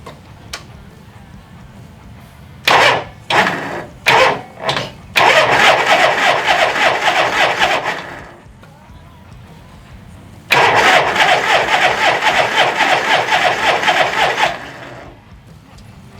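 A vintage Harley-Davidson Shovelhead motorcycle engine, choke on, cranks in several short bursts, then grinds steadily for a few seconds, pauses, and cranks again in a long loud stretch without catching.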